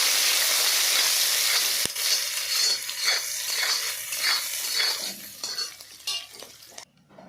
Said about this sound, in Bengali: আর পেঁয়াজ কুচিগুলো দিয়ে আমি ভালো করে পেঁয়াজটা ভেজে নেব